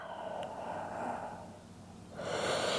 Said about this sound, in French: Ouvre les narines, inspire